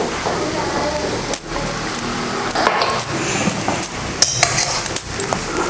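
Spoon stirring vada pav potato filling with chopped coriander in a pan, with repeated scraping and metallic clinks against the pan at an irregular rhythm.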